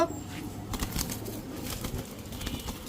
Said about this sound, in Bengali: দেখেন কবুতর, দেখেন আগে ভালোভাবে কবুতর দেখেন